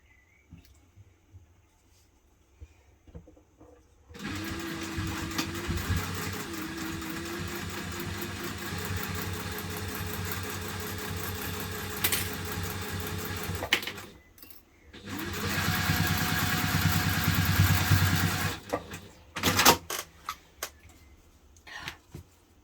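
A sewing machine stitching a hipster bag, running in two long steady bursts separated by brief pauses, with no talking.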